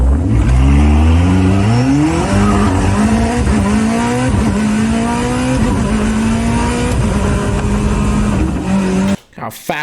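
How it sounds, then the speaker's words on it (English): Koenigsegg Jesko pre-production hypercar driven hard on a track, its loud engine climbing through rapid upshifts with rising then dropping tones, continuous and close, ending abruptly near the end. "I'm just going to show you some fun track driving with the Jesko pre-production car."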